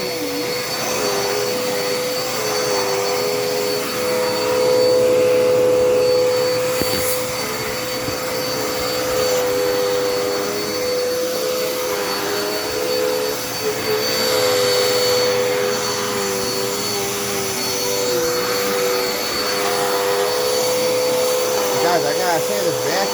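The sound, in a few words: Dirt Devil Endura Reach vacuum cleaner running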